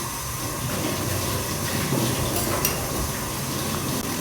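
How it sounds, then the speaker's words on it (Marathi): Tap water runs in a steady, unbroken hiss while breakfast and tea dishes are washed in a flat kitchen, with faint clinks showing through near the end. "जी भांडी आहेत नाश्त्याची चहाची ती घासून घेतो"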